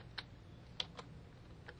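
Faint keystrokes on a computer keyboard, about five soft taps spaced irregularly over a quiet room hum.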